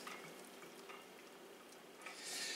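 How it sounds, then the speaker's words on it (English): Chicken pot pie filling stirred in a pan, a faint, even bubbling hiss with light scraping that grows slightly louder toward the end, no voices. "Stir that in."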